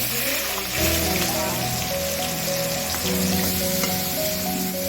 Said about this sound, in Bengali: এবার পর এটা ভালো করে সাঁতলে নিয়ে কাঁচা লঙ্কা দিয়ে দিতে হবে